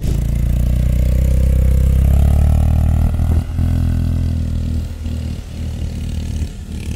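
Motorbike engines idle and rev near Chandrabhaga beach beside Marine Road in Puri, a loud, steady low rumble that swells and eases, with a few sharp bursts in the later seconds.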